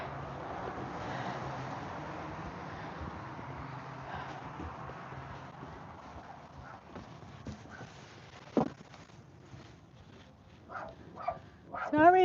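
A puppy left in a car gives a few sharp barks near the end, after a stretch of muffled talking inside the vehicle.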